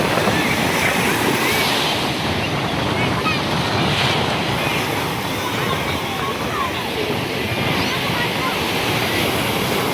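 Ocean surf at Pakala beach, a steady broad wash of breaking waves with wind rushing across the microphone, continuous and loud throughout without clear gaps.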